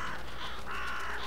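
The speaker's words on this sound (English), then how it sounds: "Crows." Crows caw in The Vanishing of Ethan Carter, a couple of harsh, drawn-out calls at moderate distance over a constant windy outdoor ambience.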